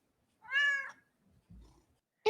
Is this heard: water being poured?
no